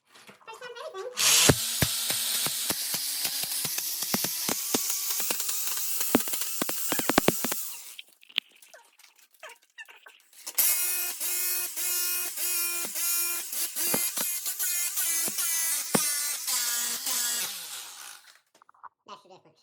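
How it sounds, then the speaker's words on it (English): A jackhammer breaks up a bathroom floor in two long bursts of loud, steady hammering, with a short pause between them and a brief quiet tail at the end. "You've never done a jackhammer before"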